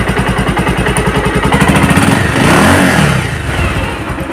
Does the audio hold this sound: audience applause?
no